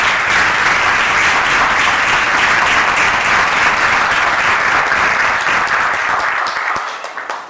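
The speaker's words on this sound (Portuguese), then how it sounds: "Vamos aplaudir o Senhor com muita alegria." Church congregation applauding during a worship service, a loud, sustained wall of clapping from many hands that fades out near the end.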